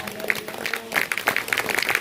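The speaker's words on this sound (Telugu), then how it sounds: "ప్రియులారా, చప్పట్ల పెడదాము." A church congregation clapping together, a short burst of rhythmic hand claps at close range with some voices mixed in.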